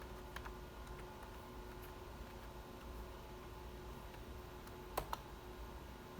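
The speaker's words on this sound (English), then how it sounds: "Let's type it correctly." Faint, sparse keystrokes on a computer keyboard in a quiet room with steady background hum. A few isolated clicks are followed by a quick pair of sharper taps.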